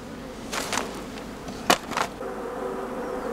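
Honey bees buzz near a beehive in a faint, continuous drone, with a few brief louder passes and soft clicks close by, and no talking.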